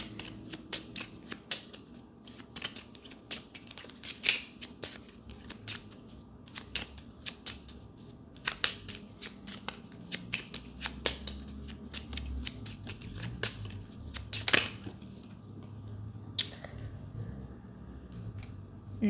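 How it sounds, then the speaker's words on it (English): Tarot cards shuffled by hand for a zodiac reading, giving a steady run of soft riffling and flicking clicks with sharper snaps here and there, close and alone, with no talk over them. "I'm just going to randomly shuffle and get a random zodiac"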